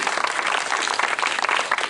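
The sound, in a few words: audience applause at a public meeting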